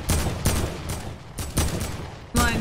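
Gunfire in a Fortnite squads match: four or five sharp, loud shots spaced irregularly about half a second to a second apart, each with a short decaying tail.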